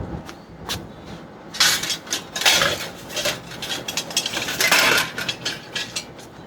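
Collapsible metal camp cookware pans squeezed and snapped together, producing a run of close, bright clatters, clicks and metallic knocks in irregular bursts with no talking.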